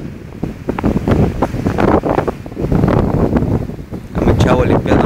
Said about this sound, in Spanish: Está soplando bien rico el airecito.